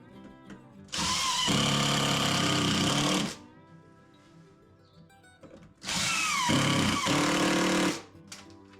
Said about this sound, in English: So now I'll put a couple of screws in it.